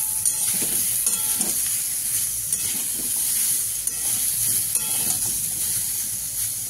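Mango pieces sizzling in a hot pan with a little salt for mango chutney: a steady, dense, close hiss of frying that holds evenly throughout without pauses.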